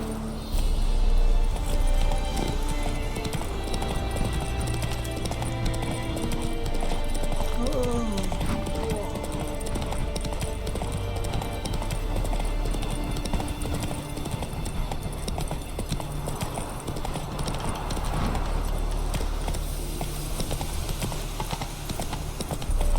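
Roach, a horse in the video game The Witcher 3, gallops with steady rhythmic hoofbeats and an occasional whinny over background game sounds, while voices speak intermittently.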